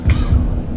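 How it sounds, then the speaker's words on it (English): A cough from the audience at a game show, two short muffled barks close together, loud and brief, with no talk over it. "his cough squad is there to save him"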